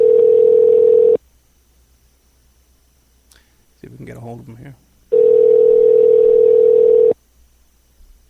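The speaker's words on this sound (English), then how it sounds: "It's been ringing a couple of times." An outgoing call to a cell phone rings back with two long steady tones separated by a pause, loud and close, while someone speaks briefly in the gap.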